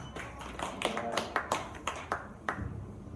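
Audience applause for kids at a live fair awards event, a short burst of scattered, uneven hand claps at moderate distance, with murmuring voices underneath.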